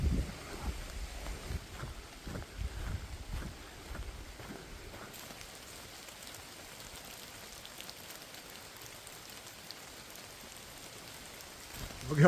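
Rain falls steadily outdoors on a walk along an old river channel, a constant close patter with louder drops and rustling at first that settles into an even, softer hiss.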